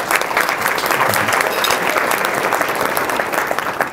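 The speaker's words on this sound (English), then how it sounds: "Let's have a round of applause." Audience applause at a community morning event, steady dense clapping sustained throughout at fairly close range with no pause.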